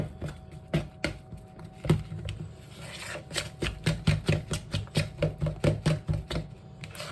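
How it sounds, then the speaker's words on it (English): Spoon working thick lemon raspberry bar icing in a bowl, mashing out clumps with a run of sharp knocking and scraping strokes that grow steady and rhythmic, close and fairly loud. "I'm going to use that spoon. All I'm trying to do is just mush out any clumps"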